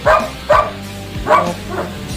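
A stray dog barks four times in an uneven rhythm, sharp close yelps spaced about half a second apart, heard alone without talk.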